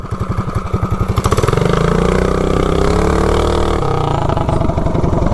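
A Big Block 420 engine on a small vehicle fitted with a torque converter pulses loudly at idle, then revs hard and climbs in pitch during a wheelie launch, holding a strained, rapid-firing roar up close.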